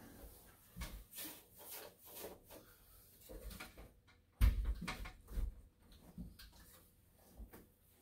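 A brush sweeps wallpaper flat against a wall during wallpapering practice, making soft, close, irregular brushing and rubbing strokes, fairly faint, with a louder thump partway through.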